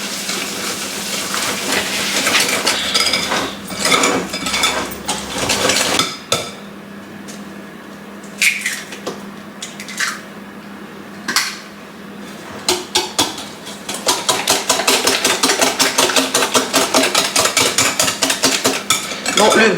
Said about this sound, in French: 160 grammes de sucre et on vient du coup fouetter énergiquement